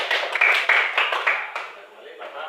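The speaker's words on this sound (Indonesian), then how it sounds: "Tepuk tangan." Several quick rhythmic hand claps from a group in an elementary school classroom, sharp and fairly close, fading out as the burst ends, with voices mixed in.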